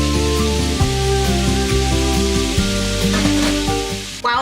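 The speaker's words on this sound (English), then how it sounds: "I'm gonna add a little more olive oil to the skillet because I do want to add in my onions" Ground beef with onions and garlic frying in olive oil in a skillet, a loud steady sizzle and crackle close up, with a droning hum underneath and a brief clatter near the end.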